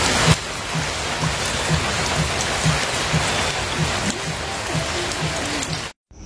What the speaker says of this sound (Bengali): এদিকে বৃষ্টির স্পিড কিন্তু বেড়েই চলেছে